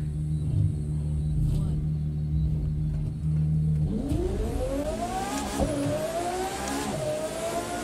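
A LaFerrari in the racing game The Crew 2 idles with a low steady hum, then its engine revs hard and climbs through rising gears in a loud, continuous roar, with a voice talking over it.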